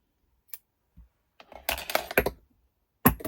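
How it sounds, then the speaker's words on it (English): Scissors snip a crochet yarn tail up close: a few light clicks, then a cluster of crisp snipping and rustling, and a final sharp snip. "Let's snip that off."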